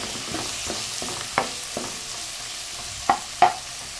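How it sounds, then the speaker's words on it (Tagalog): Yellowfin tuna sautéing in a little olive oil in a pan, a steady close sizzle broken by a few sharp spatula stirs and clacks, with no one talking. "Gisa na natin yung isda."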